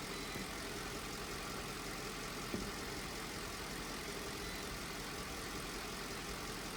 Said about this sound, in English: You can hear the engine revs change because it turns off the compressor